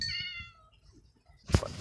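Cats in the Minecraft video game give a clear, high meow that tails off, followed after a quiet gap by a sharp, loud clank near the end.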